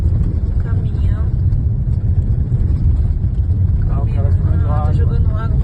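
Cars roll slowly along a sandy dirt detour beside roadworks in Patagonia, with water sprayed to hold down the sand. A steady low engine rumble carries throughout beneath ongoing talk.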